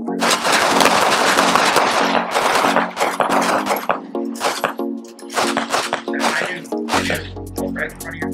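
Pistol shots at a firearms training course, with several sharp, closely spaced reports over a steady tonal background that drops to a low hum near the end.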